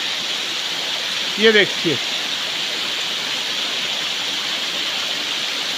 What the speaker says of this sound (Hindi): ये ऊपर से पानी आ रहा है इस वक्त।